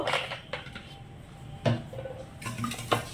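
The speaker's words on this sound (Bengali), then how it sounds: "এবার এটাকে আমি বাটিটাকে তেল দিয়ে ভালো করে মাখিয়ে নেব" Greasing a silver metal bowl with oil for a cake, with close clinks and scrapes of metal and spoon against the bowl, a few distinct knocks spaced through quiet kitchen background.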